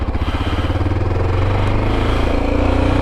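A Honda XR650L single-cylinder dual-sport motorcycle engine thrums steadily while riding, with a fast pulsing beat and a constant low drone that builds slightly and stays close and loud.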